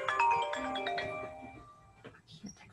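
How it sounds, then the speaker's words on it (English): An incoming-call phone ringtone plays a bright electronic melody of stacked tones for about two seconds, close and clear, then fades into a few soft scattered room noises. "I can't take a phone call."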